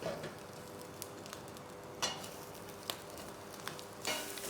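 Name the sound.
onions searing in a hot wok for Mongolian beef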